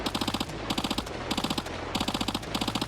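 An MP7 submachine gun fires in Arma Reforger, loud and close, in five quick rhythmic bursts separated by brief pauses.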